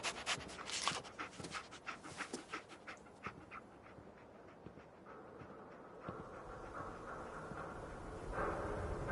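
A dog in the Fallout 4 video game pants and sniffs while tracking a scent, a rapid run of breathy bursts in the first half that turns to softer whimpering breaths, fairly quiet and with no talk.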